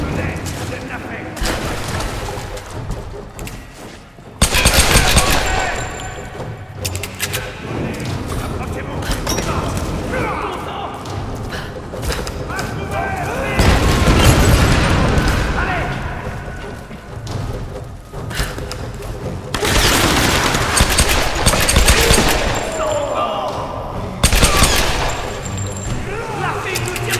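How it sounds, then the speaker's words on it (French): Gunfire and explosions in the Tomb Raider video game: scattered shots, thuds and booming blasts over a continuous noisy game soundscape, with voices talking throughout. "La fille nous tire dessus."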